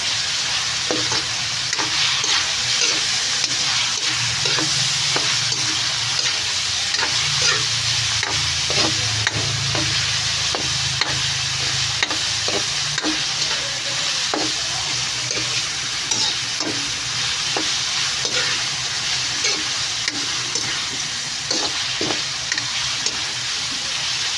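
Ilonggo-style pancit stirred and sizzling in a pan, a steady frying hiss running throughout with repeated scraping clicks of the utensil against the pan, close and continuous with no talk.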